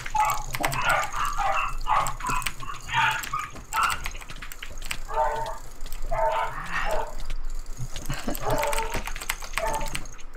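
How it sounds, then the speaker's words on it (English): Several dogs bark excitedly in repeated bursts throughout, fairly close and loud, with yips and whines between barks over a steady background hiss. "Dogs are freaking out once again."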